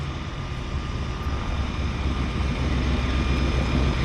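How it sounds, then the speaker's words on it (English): A de Havilland Beaver floatplane's radial engine starts and settles into a rough, rumbling idle at a float base, loud and close, building slightly in strength over a few seconds. "I hear engine start. Oh, another Beaver."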